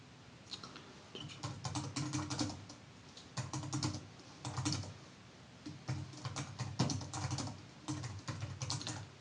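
Typing on a computer keyboard: close, quick bursts of key clicks in uneven clusters with short pauses between them, steady and fairly soft, with no voice over it.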